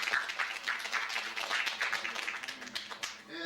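Applause at a cultural center general assembly, a fairly quiet round of clapping from a modest group, irregular and close, lasting a few seconds.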